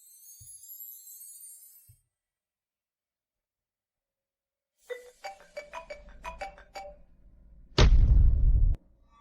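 A mobile phone rings with a short run of bright, melodic chiming notes after a stretch of silence, then a loud, harsh burst of noise cuts in; no one speaks.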